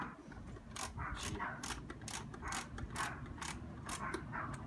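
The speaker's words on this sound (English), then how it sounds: "if you don't have a ratcheting screwdriver, get one" A ratcheting screwdriver clicks in repeated bursts of rapid ratchet-pawl ticks at close range, roughly a dozen short strokes in a fairly steady rhythm over a low background hum.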